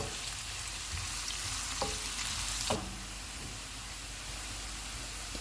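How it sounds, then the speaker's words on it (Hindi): Chopped onions frying golden in about three tablespoons of hot oil for chicken BBQ rice, an even close sizzle with a couple of light clinks from a utensil and no voices. "ऑयल गर्म हो गया, इसमें प्याज डालेंगे, इनको गोल्डन फ्राई करेंगे।"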